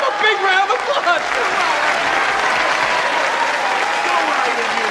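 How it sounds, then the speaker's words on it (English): Audience applause breaks out loudly at a talk, with a voice speaking and shouting over the clapping, which stays dense and steady throughout. "Give him a big round of applause!"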